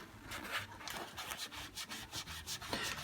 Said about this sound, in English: you can start rubbing very well over the white plastic elements